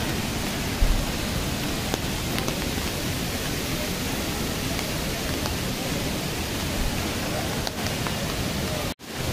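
Heavy rain at Woodland waterfall near Nainital, a dense continuous hiss of downpour and falling water, loud and steady throughout, with a brief thump near the start and a sharp cut near the end.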